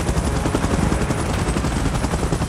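A helicopter in the PUBG video game gives a loud, continuous rotor roar with a rapid pulsing chop, close and steady throughout.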